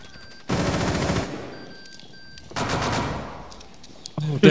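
Rapid gunfire from a video game shootout in a competitive team match, two loud sustained bursts of shots separated by a quieter gap, with a brief sharper burst at the end.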